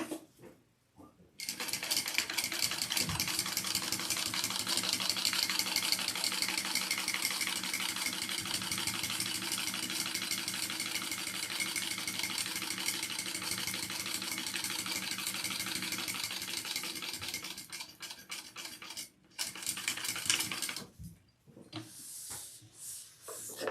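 A sewing machine stitches a sling bag, running in a continuous fast mechanical whir that holds for much of the stretch before stopping and restarting in short bursts at the end.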